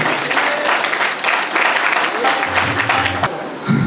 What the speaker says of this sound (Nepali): एकपल्ट जोरदार ताली बजाएर सम्मान गरौँ।